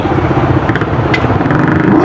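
A motorcycle engine chugs and clatters as the rider maneuvers slowly through shallow flood water, a steady close rumble with splashing texture and no speech.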